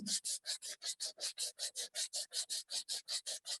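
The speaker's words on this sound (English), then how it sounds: "So we want to sand with the grain." Hand sanding along the grain of a wood surface, about twenty even back-and-forth strokes in a steady quick rhythm, each a close, bright, raspy rub separated by brief gaps, with no voices.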